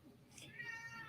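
A house cat meows once, faint and indoors, a brief rising cry against a quiet background.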